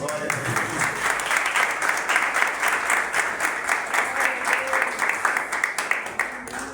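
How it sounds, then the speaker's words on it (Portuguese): A church congregation claps for children in a steady, moderately loud wash of applause that keeps an even rhythmic pulse throughout, with some voices mixed in. "Você pode aplaudir para elas?"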